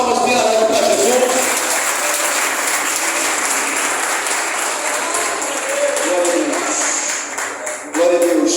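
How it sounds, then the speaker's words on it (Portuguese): A church congregation at a closing night of a prayer congress applauds loudly and steadily, dense clapping filling the room with voices mixed in, dipping briefly near the end before surging again. "Receba, pastor, com as palmas bem alegres para Jesus"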